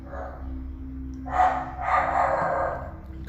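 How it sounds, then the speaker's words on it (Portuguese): A dog barks angrily indoors in two loud bursts, each a short cluster of rough barks, with a steady low hum underneath and no talking. "Desculpa aí pelo latido do cachorro que tá brabo"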